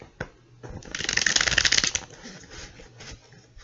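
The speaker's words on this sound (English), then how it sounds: "maybe like 3 more shuffles should do the trick" A deck of tarot cards is riffled and shuffled close up, a dense papery flutter building to a peak, followed by lighter taps and slides.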